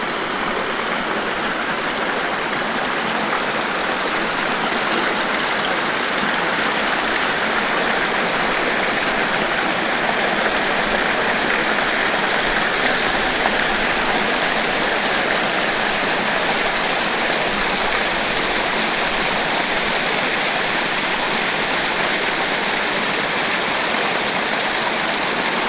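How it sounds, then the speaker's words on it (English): A clear mountain stream in Glencoe rushes steadily over rocks, a loud, unbroken wash of flowing water lasting the whole stretch with no voices. "How clear that water is down there"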